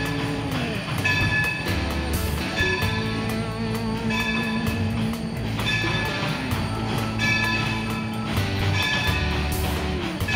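A Steamtown excursion train rolls along the rails in Scranton, giving a continuous loud rumble with rhythmic wheel clicks and a steady mechanical drone heard from on board.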